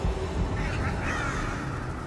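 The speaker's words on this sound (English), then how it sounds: "And all the crows start flying away." Crows caw and scatter in Darksiders II, their harsh calls layered over a dense, steady wash of game ambience and noise with no pause.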